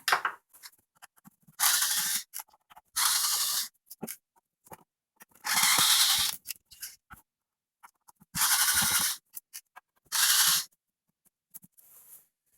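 Screws are backed out of the base plate of a Keurig B70 coffee maker, heard as five separate close, scratchy ratcheting bursts with quiet gaps between them.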